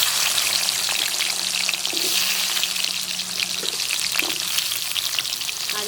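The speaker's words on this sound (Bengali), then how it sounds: "এই তেলের মধ্যে আলুগুলোকে ভেজে নেব।" Potatoes frying in hot oil give a loud, steady, crackling sizzle close up. Occasional soft clinks sound faintly beneath it, and no one speaks.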